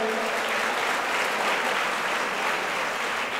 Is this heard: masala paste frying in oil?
no